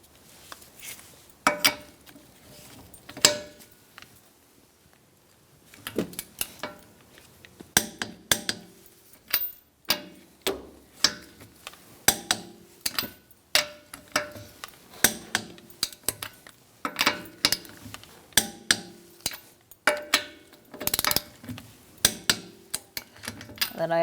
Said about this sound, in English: We're going to torque our lug nuts to 80 foot-pounds.